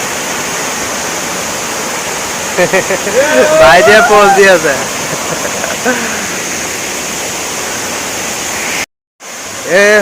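Linhojar waterfall in West Karbi Anglong roars as a steady, loud broadband rush throughout, with people talking over it in the middle and a brief dropout near the end.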